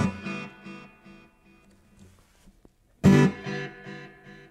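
A guitar, the carbon fiber Enya X4 Pro, rings out with its built-in reverb and delay effects. A strummed chord decays with a washy tail, and then a second strong strum rings out.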